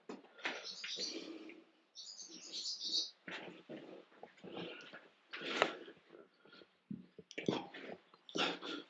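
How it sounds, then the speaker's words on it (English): Agitated birds call repeatedly near an early Neolithic long barrow at West Kennet, with bursts of chirps and harsh cries coming in irregular clusters, fairly close and fairly loud, with no talk over them. "the birds get angry with me"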